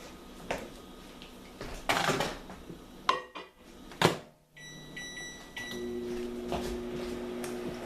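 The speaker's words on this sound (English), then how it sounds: "I get a cup of water and I put it in the microwave." In a kitchen, a cup clinks and knocks as it is placed inside a microwave, with the door thudding shut, followed by a few short electronic beeps from the keypad and a faint hum.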